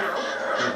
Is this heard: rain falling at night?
no